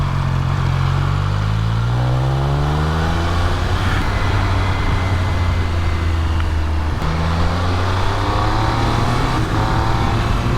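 A 2021 Triumph Speed Triple 1200 RS motorcycle roars steadily under acceleration, its loud exhaust note rising and falling through gear changes with a deep, continuous engine drone and wind rush throughout.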